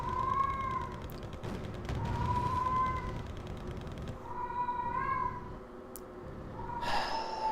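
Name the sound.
cats meowing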